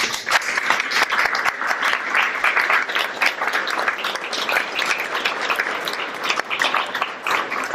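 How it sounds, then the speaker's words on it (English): Sustained applause from an audience at a world peace event, dense and steady with many hands clapping for nearly eight seconds, filling the hall without pause. "Let's also give him another round of applause."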